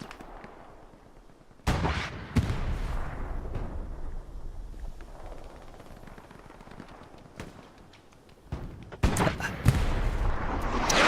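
Tank rounds and artillery fire boom in the World War II shooter Hell Let Loose, heavy blasts and rattling gunfire rising loudly at the start and again near the end over a continuous battlefield rumble.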